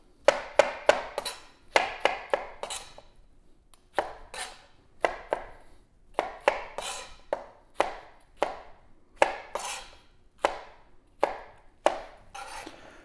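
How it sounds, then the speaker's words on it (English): A knife chops cored tomatoes into chunks for salsa on a cutting board, a close, rapid series of sharp knocks in quick bursts with short pauses between. "once you have all your tomatoes cored, you're just going to go down the middle,"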